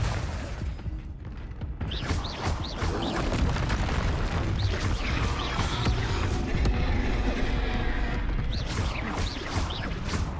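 Blasting spell explosions from the Hogwarts Legacy video game boom repeatedly through dense, continuous battle noise, with crashes and bursts layered over a loud, busy combat mix.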